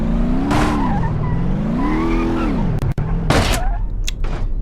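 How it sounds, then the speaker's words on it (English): Modded car engine revving hard in BeamNG.drive, a loud, wavering tone that swells and sags over several seconds, followed by sharp bursts like backfire or impact noise near the end. "enjoy these engine sounds"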